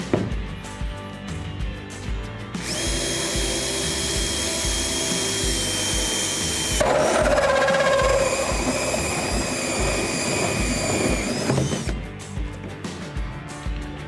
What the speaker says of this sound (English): Use my hole saw to create the opening